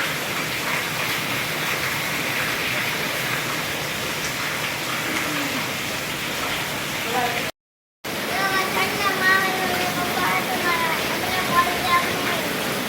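Rain falls steadily in a broad, continuous hiss of drops on surfaces, with a brief gap in the middle and some faint voices under the downpour.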